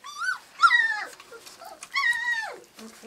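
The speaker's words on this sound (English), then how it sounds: "These are Cooper and Rosie's puppies." Three-week-old puppies whimper in high, drawn-out whines while eating raw turkey and goat milk, a few separate cries close by, with faint soft sounds between them.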